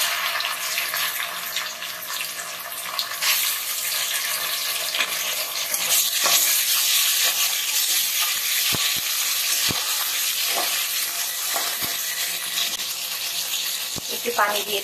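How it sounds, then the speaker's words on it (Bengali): Chopped onion, green chili and ginger-garlic paste fry in hot oil with a continuous bright sizzle, close and loud, with occasional stirring knocks against the pan. "এবার পেঁয়াজ কুচি আর কাঁচামরিচ দিয়ে দিচ্ছি। দিচ্ছি আদা রসুন বাটা,"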